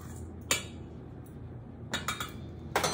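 A spoon stirs and scrapes brown sugar in a mixing bowl for pumpkin or applesauce muffin batter, giving three separate clinks against the bowl, the first one sharp and the later two in short clusters, close and fairly quiet.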